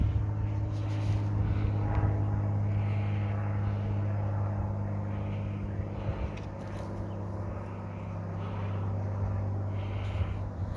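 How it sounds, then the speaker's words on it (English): A small aircraft passes overhead, a steady low drone that holds across the whole stretch and is heard from inside a vehicle, with no one speaking. "I'd say a small aircraft go over here."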